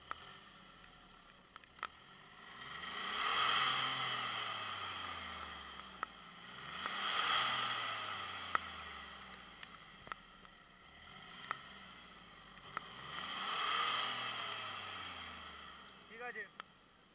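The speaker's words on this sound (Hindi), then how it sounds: "आपको पीछे के जाके आपको दिखाता हूँ एग्जॉस्ट की साउंड कैसा कुछ हुआ है" A car exhaust fitted with a new muffler rumbles at idle and rises in three slow revs, each swelling then settling, steady and fairly quiet with faint clicks in between.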